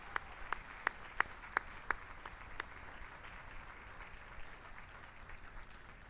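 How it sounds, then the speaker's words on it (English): Audience applause at a university campus address as a staff award winner is called up, with a sustained wash of clapping and several sharp individual claps standing out early, then settling into steady moderate applause. "You wouldn't know that from all the applause here."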